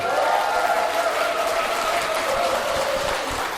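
A seminar audience at a business presentation claps together in a sustained round of applause, fairly even over a steady background tone, lasting several seconds and tapering slightly at the end.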